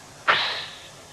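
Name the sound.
mouth sound imitating an exclamation point, Victor Borge style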